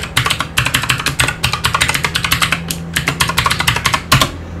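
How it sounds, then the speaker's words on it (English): Rapid, close clicking of a computer keyboard as a password is typed, steady bursts of keystrokes with brief pauses and a low hum underneath, no talking. "now I got to type my password in"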